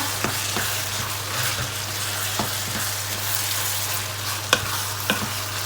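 Pork and chilies stir-fried together in a pan for Thai pork basil, with a steady sizzle, a low hum underneath and a few sharp clinks of the spatula against the pan.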